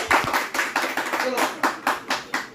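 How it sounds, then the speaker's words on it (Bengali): A small group claps at the opening of a new mobile phone shop, giving a burst of close, uneven handclaps in loose rhythm with a few voices mixed in. "চলো হাততালি"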